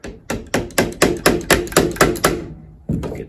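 About a dozen crisp hammer blows in quick succession tap small pins into a 1969 Firebird tilt steering column, close and loud, followed by a short pause and one more strike.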